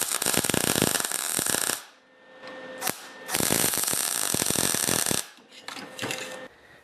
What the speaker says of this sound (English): Now I'm just going to center this piece of pipe and weld it on there.